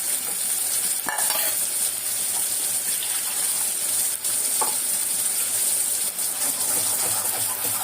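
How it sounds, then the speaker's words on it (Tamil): Raw ground masala paste for a fish curry frying in hot oil, a steady broadband sizzle with occasional stirring scrapes, close and continuous throughout. "அதனால ஒரு 2 நிமிஷம் எண்ணெயில் வதங்கணும்."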